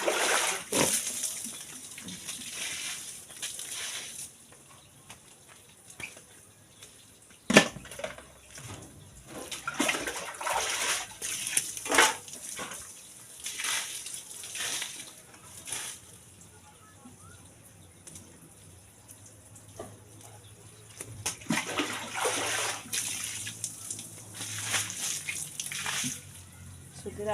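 Water splashes and sloshes in bursts as an outdoor area is soaked, close and uneven surges separated by quieter stretches, with someone talking over parts of it and birds faintly in the background.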